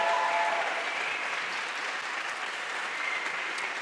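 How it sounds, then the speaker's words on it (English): Loud, sustained applause and cheering from an audience at a Green Party May Day political rally, a dense continuous wash of clapping that holds steady without pause. "can we have another massive round of applause for all our speakers this evening and a big cheer"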